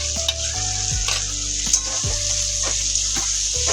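Green beans frying in hot oil with cumin paste, a steady close sizzle with repeated stirring scrapes from a utensil against the pan, continuous throughout with no talking.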